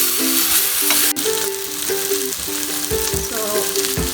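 Thin vegetable slices fry steadily in a hot pan for a simple vegetable roast, a continuous close sizzle with a sharp clatter near the start as more pieces go in.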